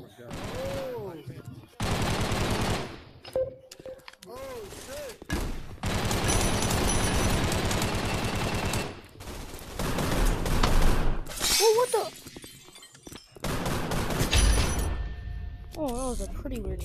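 Bursts of rapid gunfire from the video game Gun Raiders come in separate loud volleys with short gaps between them, mixed with sharp impact and shattering sounds and a player's voice talking.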